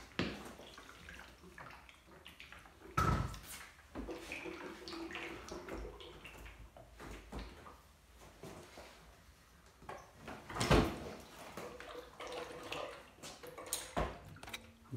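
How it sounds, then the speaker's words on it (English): A Bosch dishwasher, its sump just replaced, is tipped onto its back: a few heavy thumps and clunks stand out over faint water sloshing and shifting, close by with no talk. "Flip the dishwasher on its back first."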